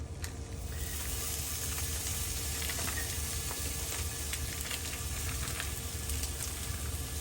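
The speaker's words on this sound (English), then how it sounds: "now I'm gonna put it in the pan" Chorizo sausage sizzles in a pan, a steady, dense frying hiss that starts with a brief clatter and continues close and even, with no talking.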